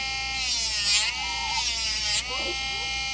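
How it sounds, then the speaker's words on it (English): An electric nail grinder buzzes steadily as it grinds an Italian Greyhound's toenail, a continuous high whine that shifts slightly in pitch as pressure on the nail changes, close and loud throughout. "So here I am, straight grinding."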